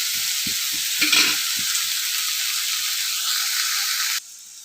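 Cluster beans frying on low flame in a pan give a steady, close sizzling hiss that runs through the clip, with a few light stirring knocks near the start and an abrupt cut near the end.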